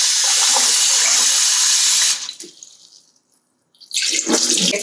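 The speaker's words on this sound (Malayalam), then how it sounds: "നല്ലവണ്ണം കഴുകി" Sago pearls washed under a running tap, a loud steady gush of water that fades out midway and then surges back as the flow resumes.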